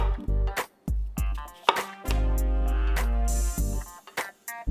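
A knife cuts peeled potatoes by hand into fries on a board, giving a short run of crisp chops and thuds broken by pauses, with clear ringing sounds between strokes.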